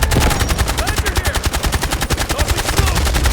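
Rapid automatic gunfire from the video game Delta Force, with close, loud, steady bursts hammering out continuously with hardly a pause.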